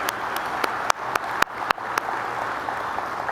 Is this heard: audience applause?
yes